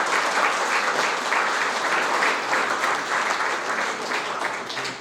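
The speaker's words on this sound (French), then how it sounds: "Vous pouvez m'applaudir." A crowd at a Nice gathering marking the centenary of Armenians arriving on the Côte d'Azur applauds steadily, dense even clapping held at a loud, constant level throughout with no talk over it.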